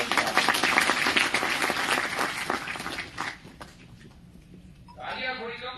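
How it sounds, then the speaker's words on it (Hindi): A crowd claps at a job fair address in Gwalior, a dense burst of applause that thins and fades after a few seconds before a voice begins. "तालियां थोड़ी कम बजी।"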